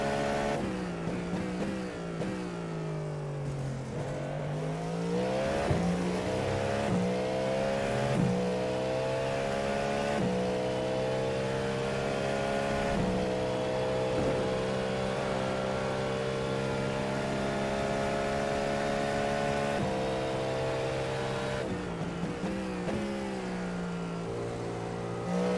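Race car engine in the iRacing sim holds a steady high drone with rising and falling pitch as the car is pushed hard, continuous and close with no voices.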